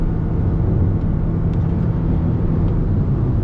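A steady, loud engine drone with a low muffled rumble from a revving 2022 Toyota Corolla Hybrid, holding constant throughout without clear rises or drops.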